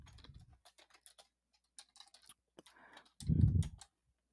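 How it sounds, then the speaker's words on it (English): Quiet, nervous typing on a computer keyboard: sparse, irregular key clicks up close, ending in a brief heavier clatter. "I'm a nervous typer."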